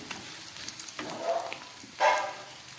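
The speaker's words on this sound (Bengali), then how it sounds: "ক্যাপসিকামটা আমি খুব ভালো করে ভেজে নিচ্ছি পেঁয়াজের সঙ্গে" Steady sizzling of capsicum and onion frying in a pan, with two louder bursts of crackle as the contents are stirred, close and fairly quiet.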